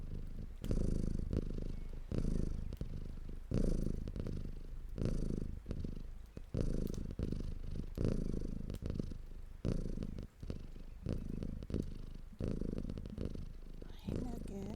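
A pet cat named Nugget purring close up, with loud, rhythmic rumbling pulses of breathing in and out, steady throughout.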